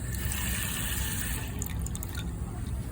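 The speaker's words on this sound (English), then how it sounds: "Let me just add more water to the original tank." Water poured into a tank makes a continuous close trickling, filling wash with light splashes, steady throughout and with no talk over it.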